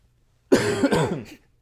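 A single sharp cough, close and loud, with a rough throaty tail, standing alone against silence.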